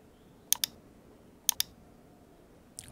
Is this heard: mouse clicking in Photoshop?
yes